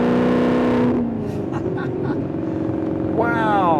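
Maserati GranTurismo engine revving while driving, a throaty note that climbs, drops off, then surges back with a rising gear pull near the end, heard from inside the car with some voice over it.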